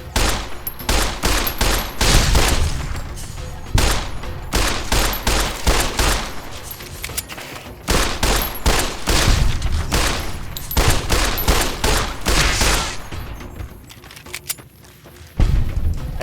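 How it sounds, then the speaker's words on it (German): Rapid bursts of gunfire in the video game Fallout New Vegas, loud volleys of shots firing in quick succession with short pauses between clusters, continuing throughout. "Hör die Kugeln."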